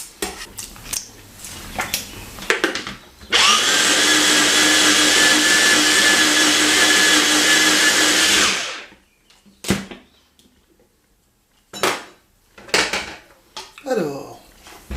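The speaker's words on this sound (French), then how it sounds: "je vais y rajouter maintenant l'ail, que je vais piler directement dedans, pour un dernier petit tour de mixeur" A food blender whirs through a batch of hummus with freshly crushed garlic, a loud steady whine running about five seconds, framed by clinks and knocks of kitchen utensils and bowls before and after.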